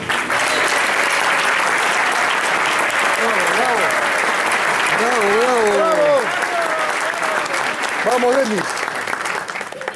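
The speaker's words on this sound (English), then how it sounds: "Give a special round of applause for the people that make it happen." Steady applause from a large crowd fills the whole stretch, with a few voices calling out over the clapping.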